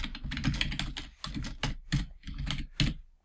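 Rapid typing on a computer keyboard as a prompt is entered into an AI coding tool, a steady close run of key clatter in uneven bursts with short pauses, no talking.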